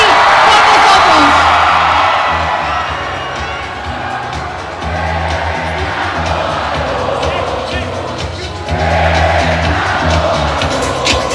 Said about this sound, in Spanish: Vamos a darle un gran aplauso a Fernando Alonso, que está ahora aquí con nosotros.